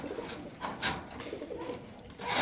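Racer pigeons at a pigeon market coo softly in a low, continuous murmur over light background bustle, with no speech.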